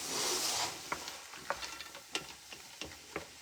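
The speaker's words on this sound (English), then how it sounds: "we are going to add in the vegetables. Give that a little mix." Frozen vegetables are stirred into a hot, sizzling pan of dal fry: a steady hiss of frying under a series of scraping stirs and soft knocks from the spoon, close and fairly quiet.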